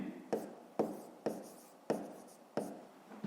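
Pen strokes scratch across paper as a school maths answer is written out by hand, five or six soft, evenly spaced scribbles at close range, quiet, with no talking.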